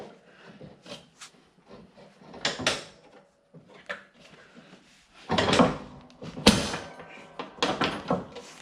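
The cutting deck of a Toro TimeCutter zero-turn mower is lifted with a series of hard metallic clunks and scrapes, separated by short pauses. Two heavier knocks stand out toward the end.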